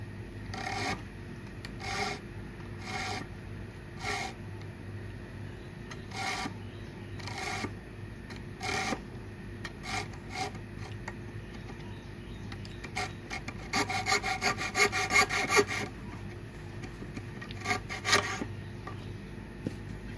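Rhythmic rasping strokes of a small saw cutting into wood, repeated steadily at close range, with a faster, louder burst of strokes near the end.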